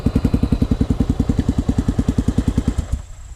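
A Honda motorcycle engine runs close by with a loud, even, lumpy thumping pulse that cuts off abruptly near the end.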